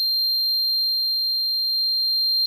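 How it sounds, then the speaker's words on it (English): A total station surveying instrument emits a steady, high electronic tone while measuring distance; it holds unbroken and fairly faint for about two and a half seconds, alone and with no voices. "there'll usually be an audible tone when measuring, followed by a beep when finished"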